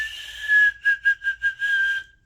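A single person whistles loudly without fingers using a center-tongue technique, holding one steady piercing tone broken into several short pulsed bursts, alone with no talking.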